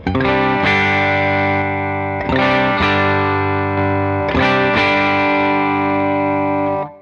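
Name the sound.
electric guitar through amp modeler with compressor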